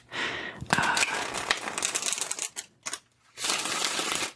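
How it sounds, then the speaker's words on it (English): Large, stiff tarot cards riffle and slap together in several quick bursts with brief pauses between, close and crisp. "I try so hard to shuffle these large cards"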